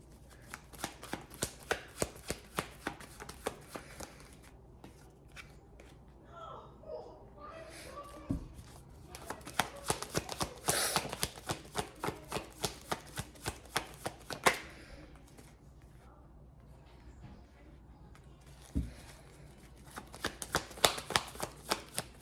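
A Kipper fortune-telling card deck is shuffled in dense bursts of quick papery riffles and taps, close and moderately loud, with brief pauses between rounds and no speech.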